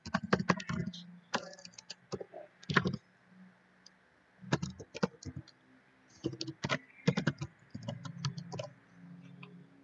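Rapid bursts of computer keyboard typing, an email address being entered, with clustered key clicks separated by short pauses, close and clear with no talking.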